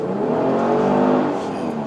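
A turbocharged 2021 Genesis G70 3.3 engine revs hard in sport mode, a loud, steady, throaty drone that swells slightly and holds close by, with no talking.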